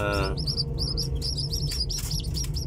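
Young chicks kept on a small farm give steady high, rapid peeping chirps, close and continuous, with dense overlapping calls from several birds and no speech.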